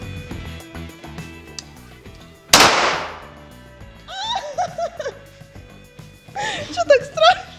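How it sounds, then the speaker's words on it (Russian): A single sharp, loud gunshot cracks out partway through, ringing briefly before fading, with voices and nervous laughter following it. "Как впечатление с первого выстрела?"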